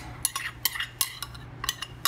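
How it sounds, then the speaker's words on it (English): A utensil clinks and scrapes in a bowl while uncooked scrambled eggs are mixed with ham and peppers, a quiet, irregular run of light taps and stirring sounds. "I'm gonna mix in all the eggs"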